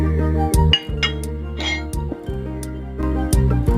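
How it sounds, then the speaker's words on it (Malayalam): A spoon clinks repeatedly against a glass while cornflour is stirred into a little milk, producing bright, irregular taps and scrapes close by with no voices. "ഇനി പാലിൽ നിന്നും അല്പം എടുത്ത് ഇതൊന്ന് മിക്സ് ചെയ്ത് വെക്കാം."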